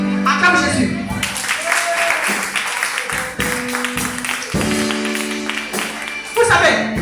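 A church congregation at a Sunday deliverance service applauds and acclaims Jesus, with sustained clapping and cheering mixed with loud voices and singing throughout.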